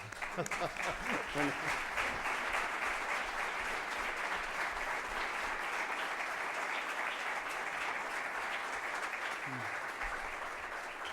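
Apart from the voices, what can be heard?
audience applause for a student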